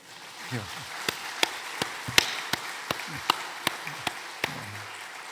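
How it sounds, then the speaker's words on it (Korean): Sharp claps ring out in a steady rhythm, about a dozen evenly spaced, with faint murmuring voices underneath, during a church service after a choir's hymn. "박수를 꼭 하고 싶은데 괜찮습니까?"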